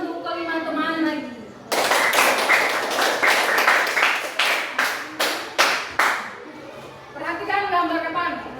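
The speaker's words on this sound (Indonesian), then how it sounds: "kita berikan tepuk masyarakat untuk kelima teman lagi" A school class claps hands together in a loud, rhythmic patterned cheer of several bursts, with a teacher speaking just before and after.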